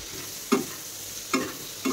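Onion frying in a pan gives a soft constant sizzle, with three louder scrape-and-stir bursts spaced about a second apart, close and without any voices.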